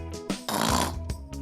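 A voice imitates a loud, snorting snore in a single drawn-out breath with a rough, nasal rasp, set between short vocal sounds close to the listener.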